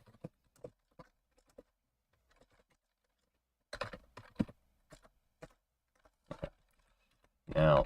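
Computer keyboard typing comes in scattered, faint key clicks, then a short quick burst of louder keystrokes in the middle, with a voice speaking briefly at the end.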